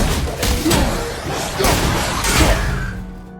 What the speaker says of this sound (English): The seamless shift of a fist sound effect to the clang of the shield slamming against your foe's